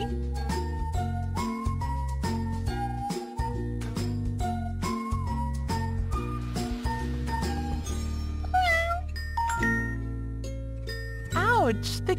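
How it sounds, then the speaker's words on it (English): Cartoon kitten meows in a kids' pet care superhero game, short mewing cries rising over steady bouncy game music with jingly chimes throughout. "Meow. Ouch! The kitten is hurt."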